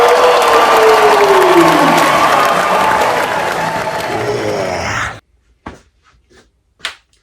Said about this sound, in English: let's give our tournament winning team, Large School winners, another massive cheer. Round of applause.